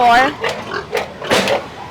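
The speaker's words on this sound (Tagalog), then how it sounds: "Hindi, kasi maganda yung lahi ng baboy namin eh" Farm pigs being sold grunt and oink close by in quick snorting bursts while a person talks over them.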